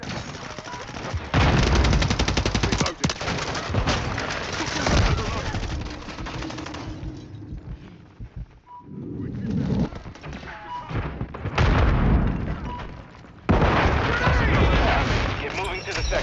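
Continuous gunfire rattles through a video game firefight with dense rapid bursts, a grenade explosion and brief lulls, the shooting loud and close throughout while voices call out over it.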